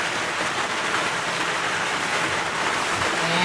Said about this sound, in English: Will be the rain falling on the tin roof.